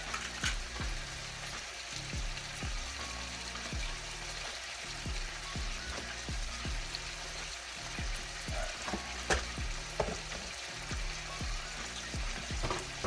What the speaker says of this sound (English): So you want to constantly stir it just like this